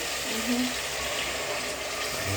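A steady, close pouring and gushing of blended tomatoes runs continuously, a thick wet stream splashing into a container.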